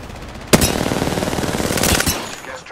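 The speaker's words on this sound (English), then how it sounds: "Shot fired." Video game gunfire crackles in a sharp opening shot followed by a sustained automatic burst and a few closing shots, loud and close, with no voices over it.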